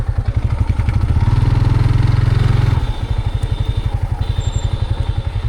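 A motorcycle ridden by two people on a muddy rural road, its engine thumping loudly and rhythmically up close, then easing to a lighter, steady beat.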